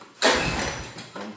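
A homemade mud motor on a boat is pulled to start but fails, giving a single brief whirring burst that dies out, then a weaker second tug.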